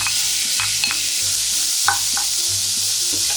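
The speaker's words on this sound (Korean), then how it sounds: "소고기 갈아 놓은 거를 바로 볶아줄 거예요" Ground beef stir-frying in a spoonful of oil in a pan, a loud close sizzle broken by repeated scraping strokes of a spatula at a brisk, uneven rhythm, with no voices.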